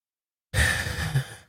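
A single deep breath drawn in and let out as a long sigh, close and clear after a moment of silence, with airy rushing noise and a slight swell near the end.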